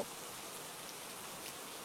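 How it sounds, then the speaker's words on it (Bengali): Heavy rain in a cartoon scene, a steady even hiss of falling rain, faint and continuous with no voices. "পরদিন সকাল হতেই অনেক জোরে বৃষ্টি নামলো।"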